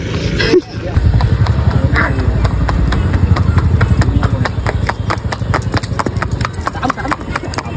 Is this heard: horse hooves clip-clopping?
yes